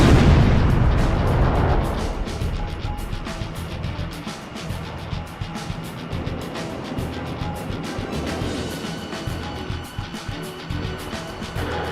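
A destroyed SAM site explodes in the jet combat game Ace Combat Zero, a loud, heavy blast that fades into a long rumbling tail under crackling in-game noise.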